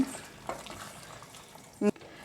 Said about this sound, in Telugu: ఒక టమాటా కట్ చేసుకొని వేసుకోండి కలుపుకోండి